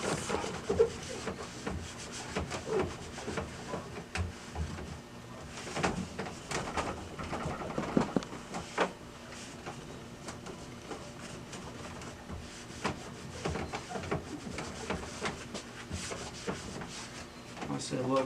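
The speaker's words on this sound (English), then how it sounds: "We're going to use a lint-free rag and glass cleaner." Soft, quiet rubbing of a lint-free rag dampened with glass cleaner across the scanner glass of an HP CM1312 printer, in repeated wiping strokes with faint bird cooing in the background.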